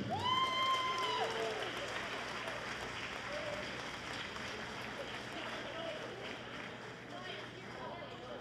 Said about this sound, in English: How about a round of applause for Haley Johnson?